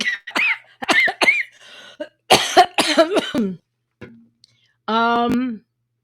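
Several sharp coughs and throat-clearing sounds between bursts of voice, close by, ending with a drawn-out vocal sound.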